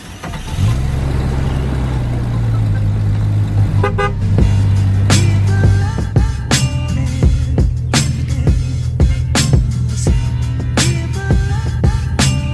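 A Jeep engine starts with a rising hum and settles into a steady idle before pulling away, with a series of sharp clicks and clunks over the engine, close and fairly loud.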